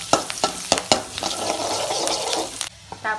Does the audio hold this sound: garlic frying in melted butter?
yes